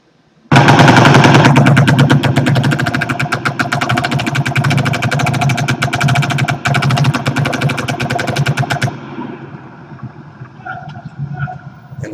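Loud, sustained fully automatic gunfire in a rapid continuous burst lasting several seconds, at the Las Vegas mass shooting, then stopping and leaving faint distant noises.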